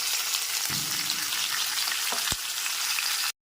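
Green chilli, tomato and ginger paste frying in hot tempering oil, a loud, continuous sizzle with a few brief stirring knocks near the end before it cuts off abruptly.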